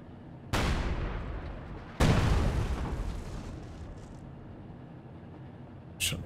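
A Panzer IV tank in the Company of Heroes game fires at infantry behind light cover: two heavy booming cannon shots a second and a half apart, each rolling off into a long echoing decay, then a faint distant thump.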